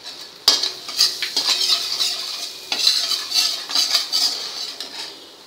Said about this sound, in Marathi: बटर वितळलं आहे, पावभाजी मसाला घालूया।